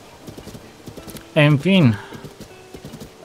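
Horse hooves clip-clopping in Zelda: Tears of the Kingdom, a steady light clatter of steps under someone speaking Spanish, with a louder vocal burst briefly rising over them.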